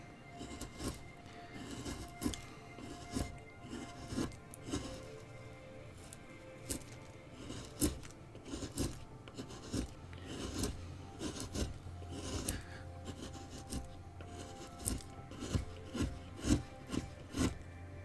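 Chisel carving into a wooden owl figure, giving repeated scraping and rasping cuts in an uneven rhythm, close and moderately loud, with brief sharp knocks between strokes and no talking.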